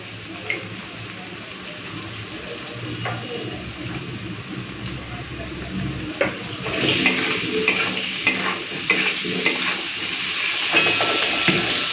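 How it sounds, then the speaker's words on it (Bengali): Salted, turmeric-dusted potatoes frying in oil in a pan for a prawn and potato curry, a continuous sizzle with repeated scraping stirs and clinks that grow busier in the second half; no talk. "তো এদিকে আলুটা ভাজা হোক"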